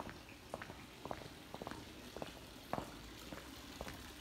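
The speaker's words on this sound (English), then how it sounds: "So I can hear the water." A fountain in an old town square runs with a steady watery wash, fairly faint, while footsteps tap lightly over it.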